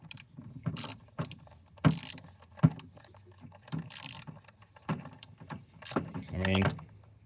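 A ratchet snugs down bolts on a Dodge Grand Caravan in a series of close, clicking pawl bursts with short pauses between, some metallic clanks and jangles, and a louder clatter at the end.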